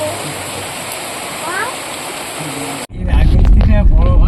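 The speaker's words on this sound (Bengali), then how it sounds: "কেমন বৃষ্টি হচ্ছে রে?" Heavy monsoon rain pours steadily through a forest, a dense broadband hiss that grows louder and closer after a brief dip, with faint voices underneath.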